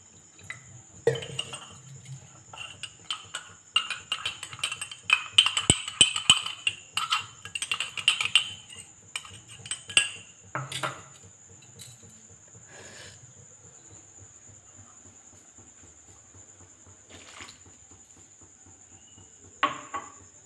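A spoon clinks and stirs while arrowroot is added to milk, with scattered light taps and scrapes, busiest early on and then sparse, heard close over a steady high insect-like hum.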